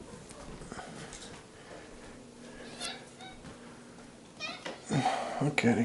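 A house cat meows indoors, a few short, fairly close calls toward the end over low room noise, with a person talking softly nearby.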